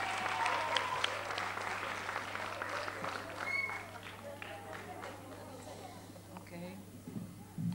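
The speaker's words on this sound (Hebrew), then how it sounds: "מחיאות כפיים ליולי." Audience applause after a choir performance fills the room steadily for several seconds, then thins toward the end, with voices and crowd chatter mixed in.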